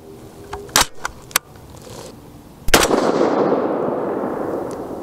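A 22 ARC rifle firing 62 g ELD-VT bullets over 26 grains of H4895 gives one loud, sharp report, with a few short sharp cracks just before it and a long hiss of wind-like noise after.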